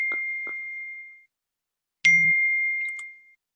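A phone notification sounds twice, each a clear, bright electronic ding ringing out and fading, separated by a second of silence, close and alone.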